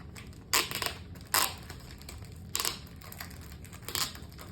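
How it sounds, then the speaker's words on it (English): A first edition book is unwrapped slowly, with four separate bursts of crinkling plastic or paper wrapping spaced over a quiet background, each burst brief and close. "I'm gonna go ahead and do my best to safely unwrap this."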